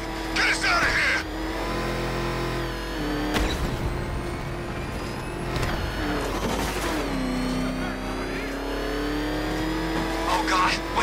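A car's engine roars and revs in a Batman: Arkham Knight chase, with tire squeals, while frantic voices shout over the steady, close drone.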